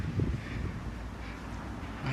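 A cold winter wind blows outdoors as a steady low roaring rumble buffeting the microphone, continuous and moderately loud with no talk.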